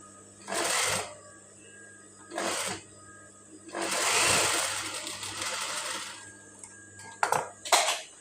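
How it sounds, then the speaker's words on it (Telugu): A sewing machine stitches small ruffled frills onto sleeves in short bursts of whirring. Four or five separate runs come close and fairly loud, the longest in the middle, with quiet gaps between them. "చిన్న చిన్న ఫ్రిల్స్ పెట్టి స్టిచ్ వేసేయాలి."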